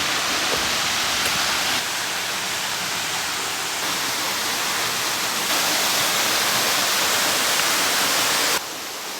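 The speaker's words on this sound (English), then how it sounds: "Hearing the waterfall. It must be super close." Tai Tam waterfall on a steep hillside trail in Hong Kong, a steady, dense roar of falling water heard close up, continuous and loud throughout with no voices.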